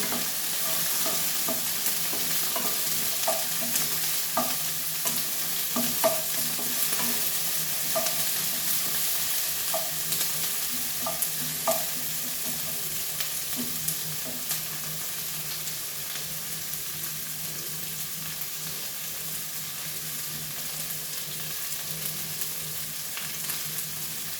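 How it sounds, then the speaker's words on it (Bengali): Onion and capsicum frying in a pan for mushroom masala make a continuous sizzle, broken by regular scrapes and taps of a spatula stirring the pieces. "তারপর আমি এর মধ্যে পেঁয়াজ, ক্যাপসিকাম দিয়ে দিলাম। এটাও ভালো করে ভেজে নেব।"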